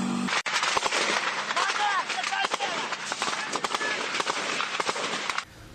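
Repeated sharp booms and cracks of heavy artillery shelling in Donetsk, spread out over several seconds against a dense noisy background, with some voices underneath.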